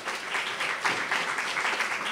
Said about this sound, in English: Let's give him a big warm round of applause